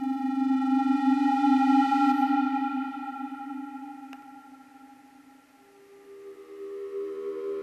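Cinematic build-up synth patch made in Ableton Operator, a sustained buzzy tone with stacked harmonics that swells, thins out, then shifts to a new rising layer, steady and alone without talk.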